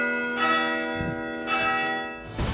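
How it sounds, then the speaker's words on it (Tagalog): Church bells ring in slow succession, about three resonant strikes whose tones overlap and linger, fairly loud and close with no talking. "pakinggan ang tunog ng kanilang mga kampana"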